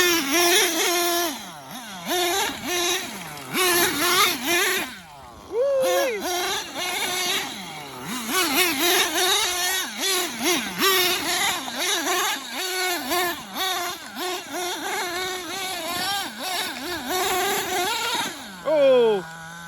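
An XTM Mammoth nitro RC monster truck, its small engine buzzing and revving in rapid, wavering bursts as it drives hard, with brief drops between runs and a sharp pitch change near the end.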